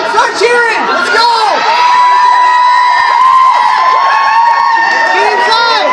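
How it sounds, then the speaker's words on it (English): A loud crowd cheers and whoops at a Blizzard sports game, sustained shouting with children's voices and excited chatter throughout, up close and filling the space. "Come on, crowd, start cheering."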